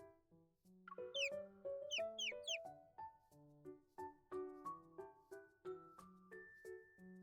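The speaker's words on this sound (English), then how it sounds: "He blows the bird whistle, and crisp sounds travel through the forest." A bird whistle in a forest setting from a video game sounds a run of crisp, clear whistled notes, several rising chirps and then a steady rhythmic sequence of tones, fairly faint and with no voices.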